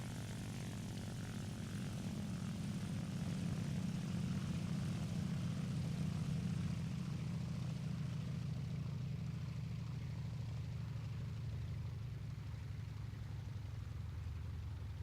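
Ki-44-II fighter's propeller engine in War Thunder drones steadily and loudly, a continuous low rumble that swells slightly and then settles, with no voices over it.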